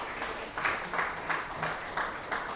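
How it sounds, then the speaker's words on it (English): Warm round of audience applause for a guest at a mining club gathering, a steady wash of many hands clapping at moderate level with regular swells, no voices over it. "give Manny a warm round of applause"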